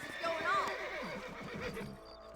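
Horses in the Western game Red Dead Redemption give a loud whinny, with soft hoof clip-clops underneath and a voice talking over them.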